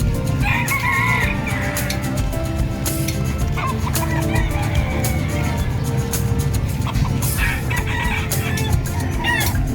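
Roosters crow repeatedly at a busy livestock market in San Carlos City, Pangasinan, several calls overlapping near and far over a constant crowd rumble and background noise.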